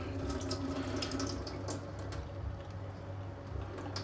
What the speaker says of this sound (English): they just rinsed, get the water out, and then we put in some fresh water